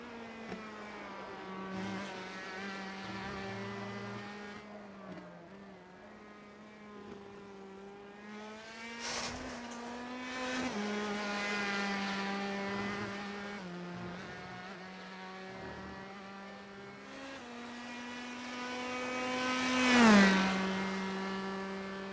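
Indy Pro 2000 open-wheel race cars in the iRacing sim at Virginia International Raceway, a steady high-revving engine whine rising and dropping through gear shifts, swelling louder as a car passes near the end.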